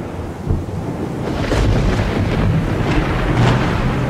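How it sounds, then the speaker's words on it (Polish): Low rolling thunder rumbles on and off with a louder crack early, mixed with steady rain-like hiss and gusty noise. "Pojawiają się grzmoty i błyskawice"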